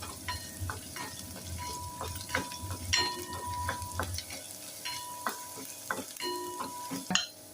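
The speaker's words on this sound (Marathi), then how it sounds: "आता आपण याच्यामध्ये बारीक चिरलेला अद्रक, बारीक चिरलेला लसूण, बारीक चिरलेली हिरवी मिरची व्यवस्थित परतून घेऊया." Finely chopped ginger, garlic and green chilli sizzle in hot oil in a pan, with steady frying hiss and a spatula scraping and clinking against the pan in an uneven rhythm, close and clear.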